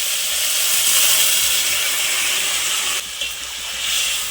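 A thin fish curry broth with ridge gourd and potato boils in a pot, giving a steady hissing, bubbling wash of sound that dips briefly near the end, close by and with no voices.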